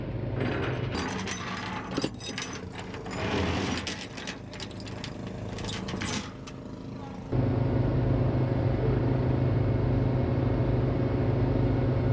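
A tow truck hooks up a parked car, with clanking ratchet and chain mechanisms in bursts that give way to a steady, loud engine drone.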